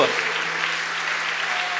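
Church congregation applauding during a sermon, a steady dense wash of clapping that fills the short moment at an even level, with no voices standing out.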